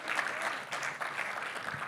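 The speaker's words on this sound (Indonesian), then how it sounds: "Tepuk tangan buat Tuhan, amin." A church congregation in Jakarta claps in worship, a soft, steady patter of hands heard at a distance.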